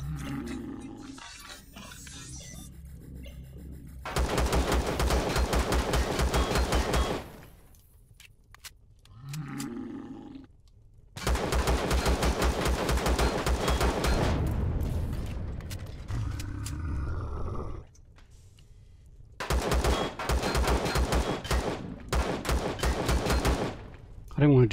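Pistol gunfire during a drone base assault in the video game Empyrion: three long, loud stretches of rapid, continuous shots, separated by quieter gaps with faint voice sounds.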